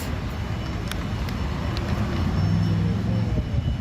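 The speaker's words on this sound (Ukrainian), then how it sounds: "Такі трамвайчики" Steady rumble of street traffic with a low drone and faint rolling as trams pass in a busy Rotterdam city street in the Netherlands, with some passing noise.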